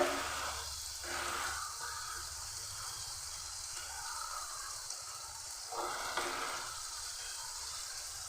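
Masala spices fry in a pan, giving a steady, close sizzle and hiss with occasional stirring swishes throughout, without talk.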